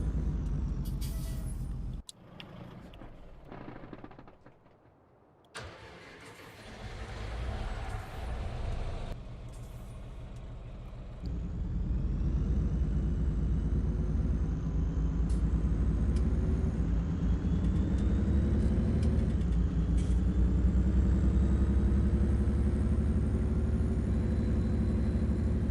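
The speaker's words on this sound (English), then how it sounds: "I'll shut up and you can hear the engine sound" A vehicle engine in Farming Simulator 19 runs steadily at a low idle, then revs up into a louder, sustained drone with rising gear-like tones. A hiss and some clunks come early on, and the engine sounds alone and close.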